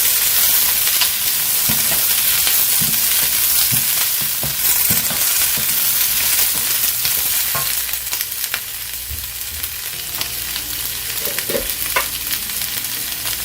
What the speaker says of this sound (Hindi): तो बहुत तेज चूल्हे पे टॉस करना है।